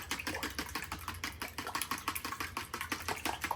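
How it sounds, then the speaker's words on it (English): Eggs are whisked briskly in a bowl, a fast, regular series of light clicking taps close up, with an even rhythm over a faint background hum. "You just need to whisk it as good as you can."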